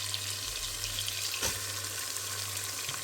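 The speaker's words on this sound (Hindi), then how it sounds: "बस इनको हल्का सा भूनेंगे" Onions frying lightly in a pot for a green onion and chickpea pulao, a steady soft sizzle running throughout with a low hum beneath and one brief stir or clink midway.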